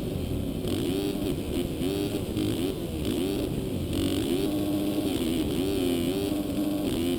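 A 2017 Husqvarna 450 motocross bike engine in MX Simulator on a supercross track in Seattle, buzzing steadily with continuous revving that rises and falls in pitch throughout.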